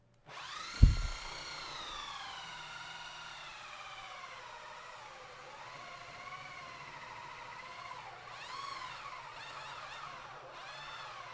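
A steady high-pitched mechanical whine of a drill runs throughout, rising and falling slightly, after a sharp thump at the start; no voices.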